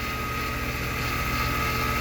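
A Vevor mini lathe spinning at full speed, around 2400 RPM, gives a steady, loud motor whine with a low rhythmic hum and an even mechanical drone throughout.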